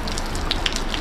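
Heavy rain pours steadily into a parking area, a close, dense hiss with scattered bright droplet hits in one unbroken second.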